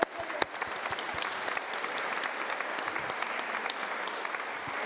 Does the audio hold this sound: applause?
yes